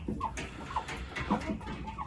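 Chickens cluck softly in short, scattered bursts, a few quiet clucks spread across a moment of low background noise.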